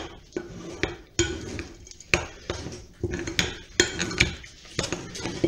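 Nuts stirred into cake batter in a bowl give repeated sharp clinks of a utensil against the bowl, roughly every half second to a second, close and fairly loud, with soft mixing sounds between and no talking.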